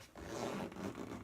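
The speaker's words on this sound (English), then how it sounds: "it just zips up like this" A zipper runs shut on a MultiStar universal drone backpack packed full of gear, one continuous close-up rasp of about a second with no talking.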